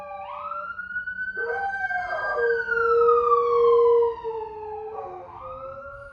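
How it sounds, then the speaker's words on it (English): A siren wails in long rising and falling tones at moderate distance, with a dog howling along in a second overlapping howl. "there's Suka howling with the siren"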